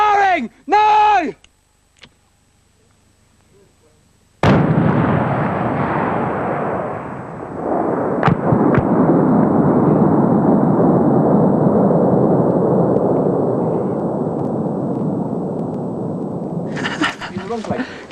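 A British Army demolition charge set off by peacekeepers in Bosnia detonates with a sudden, loud blast, then a long rumbling roar that slowly fades, with a brief shout just before and voices returning at the end.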